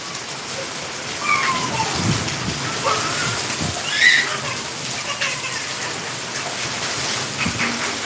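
Heavy rain with hail and wind pours down steadily nearby, a dense continuous patter with a few brief, sharper tones rising over it.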